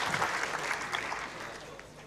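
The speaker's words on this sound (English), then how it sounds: "Friends, please give a big round of applause once again for a great presentation by Dr." Applause rises from an audience after a presentation at an event, a steady dense wash of clapping that continues throughout without a clear peak.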